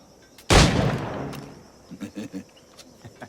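A single loud gunshot in Assassin's Creed Black Flag, with a sharp blast that rings out and decays, followed by several softer thuds and clicks.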